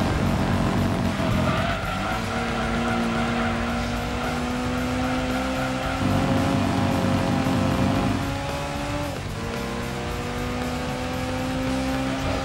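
Race car engine in the Gran Turismo 2 video game, a loud continuous whine that rises through the gears and drops with each shift, with tire squeal mixed in throughout.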